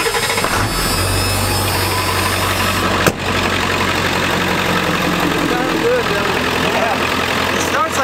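A Ford 7.3 Power Stroke diesel pickup engine turns over and settles into a steady, loud, deep idle rumble that runs throughout, broken by one sharp knock midway.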